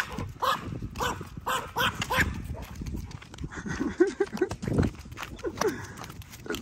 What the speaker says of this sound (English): Dog will tear you up, Navy.